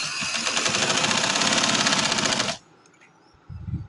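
Sewing machine stitching suit fabric, a fast steady mechanical whirr running loud and continuous for about two and a half seconds, then stopping abruptly, followed by quiet and a brief low rumble near the end.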